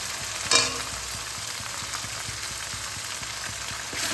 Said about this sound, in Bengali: এবার আমি এর মধ্যে জিরে ধনে বাটাটা দিয়ে দিচ্ছি